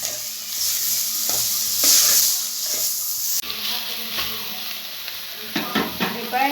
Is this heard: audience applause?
no